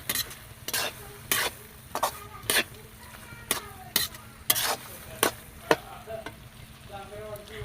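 Rice-flour-and-vegetable mixture being sautéed in a pan, with repeated sharp scraping strokes of a spatula every half second or so over a steady sizzle, close and moderately loud, no talking.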